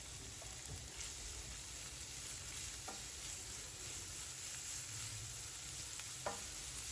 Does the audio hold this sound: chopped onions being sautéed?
yes